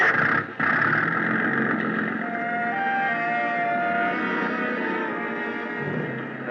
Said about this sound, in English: The big gas engine took over where the wind dropped us